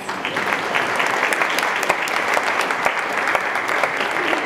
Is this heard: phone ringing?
no